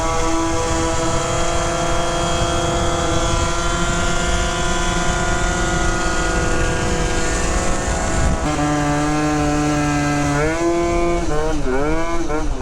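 A Yamaha Zuma scooter engine runs steadily and close, its droning tone holding constant before rising and wavering with throttle changes near the end.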